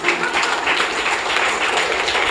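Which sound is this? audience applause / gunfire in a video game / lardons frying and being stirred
audience applause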